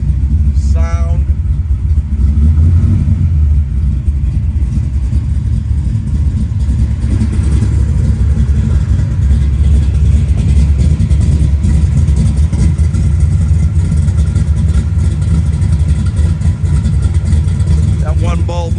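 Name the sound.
1971 Chevrolet Camaro engine running and revving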